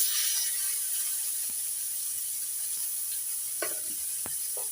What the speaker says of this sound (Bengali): পেঁয়াজ কুচিটা একটু ভেজে নেবো